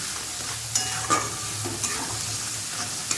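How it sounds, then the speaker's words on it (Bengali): Spices with turmeric powder and salt fry and get stirred in a pan, a steady close sizzle with scraping spatula strokes and a few sharper clinks throughout, no voices. "লবণ দিয়ে খুব ভালোভাবে আমি মশলাটাকে কষাতে থাকবো"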